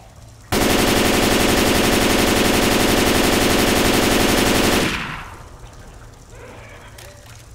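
Sustained rapid automatic gunfire from a machine gun in Left 4 Dead 2, loud and continuous for about four seconds before cutting off, with faint voices and ambient game noise afterward.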